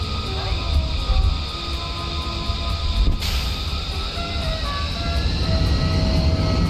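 Spacecraft engines roar steadily in Kerbal Space Program, a loud continuous rumble that holds for several seconds with a brief surge midway.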